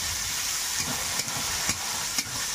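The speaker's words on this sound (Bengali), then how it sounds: "এখানে আমার মশলাটা ভালো করে কষিয়ে নিয়েছি, মশলা থেকে তেলটা ছেড়ে দিয়েছে" A paste of ginger, cumin and dried chili cooks with fried onion in a pan, giving a continuous sizzle and a few regular scrapes of a spoon stirring it.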